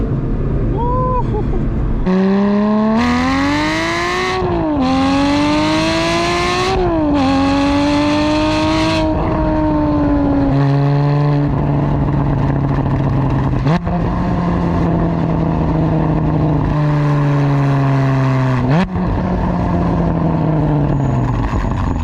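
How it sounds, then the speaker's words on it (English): A loud, high-revving Porsche GT4 with no catalytic converter, Fabspeed exhaust and GT3 throttle body screams through repeated gear changes, pitch climbing and dropping as it accelerates, raw and close throughout. "no cat, fab speed exhaust, GT3 throttle body, the thing just screams like crazy"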